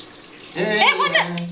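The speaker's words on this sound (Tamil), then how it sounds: "ஊற்றுங்க தண்ணியை." Water splashes and pours briefly over a Persian cat being bathed, with a swirling, gurgling sound, close by, beginning after a moment of quiet.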